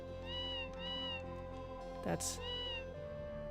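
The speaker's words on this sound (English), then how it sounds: "preparing lunch for the cats" Cat meows from the game Tales of Phantasia, two short chiming meows then a third, heard over looping background music with a brief louder burst in the middle; a voice speaks briefly.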